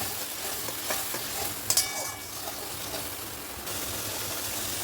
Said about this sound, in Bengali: এই মশলাটাকে আমি ভালো করে এবারে কষিয়ে নেব।